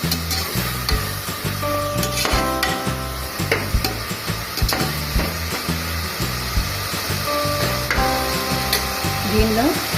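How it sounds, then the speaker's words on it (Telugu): Tomato pieces frying in a pan for chicken biryani made in a pressure cooker, with steady close sizzling and repeated stirring scrapes under music-like tonal sounds throughout. "ఈ టమాటా ముక్కలు ఇవన్నీ కూడా కొంచెం మగ్గేంత వరకు వేయించుకుందాము"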